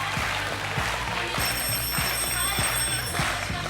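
A telephone bell rings in a steady repeating pattern on the set of the French game show A prendre ou à laisser, carrying over a busy studio background with music and crowd murmur.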